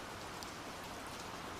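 Rain falling on a jetty by the sea at night, a dense steady hiss of drops with no pauses, soft and even throughout with no voices.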